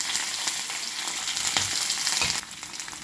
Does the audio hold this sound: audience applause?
no